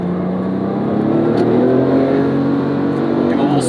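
A 2008 Porsche 911 GT2 of the 997 generation pulls under throttle, its engine a loud, steady drone with rising tone heard from inside the car, with a voice speaking over it.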